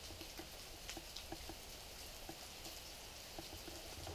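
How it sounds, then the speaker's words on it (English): Rain mixed with hail patters steadily on the ground in the Utah desert during a spring squall, a soft, even hiss dotted with faint ticking impacts, fairly quiet and alone. "Mixture of rain and hail."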